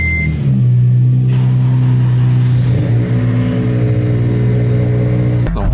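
A car engine cold-starts and idles with a loud, steady, low drone, then rises and wavers as it is revved, close and continuous throughout with a sharp noise at the very end.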